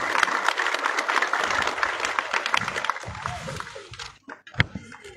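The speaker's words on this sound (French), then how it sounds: "je demande de saluer chaleureusement par une forte applaudissement" A crowd applauds warmly to welcome the sous-préfet as guest of honour at a youth festival in Ketekre-Bonikro, Toumodi; dense clapping fills the first seconds, then thins into scattered claps and a few loud, close single claps.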